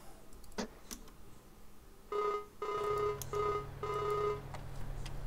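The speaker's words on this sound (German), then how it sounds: "Oh, dann telefonieren wir mal." A telephone rings in Farming Simulator 19 during a call, giving a series of short electronic ring bursts in a steady pulsing rhythm, quiet and heard alone with faint clicks before it.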